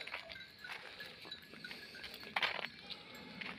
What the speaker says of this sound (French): Mes chèvres, toujours aussi intenables, pire que des gosses.